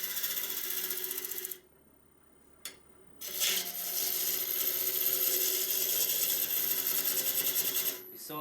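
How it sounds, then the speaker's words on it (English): A ball gouge takes a draw cut across the wood of a calabash bowl on the lathe: a dry, steady scraping hiss that stops for a short pause with a single tap, then returns in a longer, heavier pass. "back to the ball gouge. I'm going to take this wood away."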